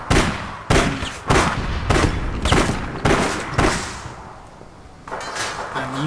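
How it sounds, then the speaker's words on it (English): Shotgun blasts from the video game APB Reloaded: a run of loud, close shots roughly every half second, a short pause, then one more blast, with no voices. "Now this shotgun is different from the the regular one."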